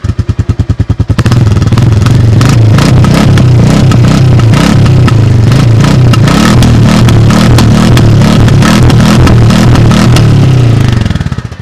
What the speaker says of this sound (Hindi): अब बात करते हैं गाइस एग्जॉस्ट साउंड की।